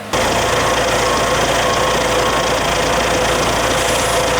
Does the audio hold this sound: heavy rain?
no